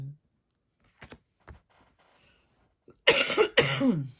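A few soft clicks and taps, then two harsh, close coughs in quick succession near the end.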